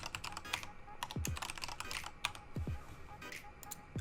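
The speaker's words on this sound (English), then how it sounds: "I'm going to type in a temporary new password for this temporary account." Keys clatter on a computer keyboard as a temporary password is typed, a run of close, crisp, irregular taps with a few louder thumps, heard alone.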